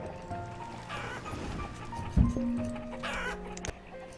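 Chickens cluck in the video game Banished, soft fowl sounds over a quiet game backdrop with a few brief tonal chimes.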